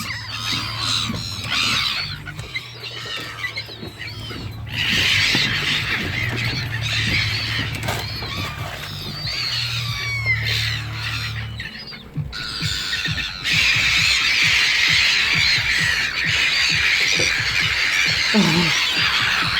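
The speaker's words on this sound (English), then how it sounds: "Wait, Seagull, get out!" Loud, dense squawking and honking from a flock of seagulls, with overlapping harsh calls throughout and a low hum underneath for the first part.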